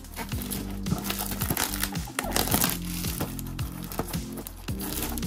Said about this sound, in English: I'm gonna rip this open.